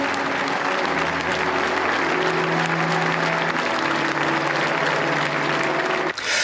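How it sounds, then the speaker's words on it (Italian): Long applause from the townspeople of Militello in Val di Catania for Pippo Baudo at his funeral, a thick, sustained roar of clapping layered over orchestral music from Cavalleria rusticana, cutting off abruptly near the end. "L'ultimo lungo applauso glielo rivolge il popolo di Militello in Val di Catania"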